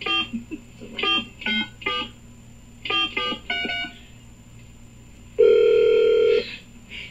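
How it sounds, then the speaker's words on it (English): Telephone keypad tones beep in quick bursts of several digits, with a pause after each group, followed by a steady, louder line tone that holds for about a second, all clear and close. "call them right now with the actual Clay Aiken on the phone"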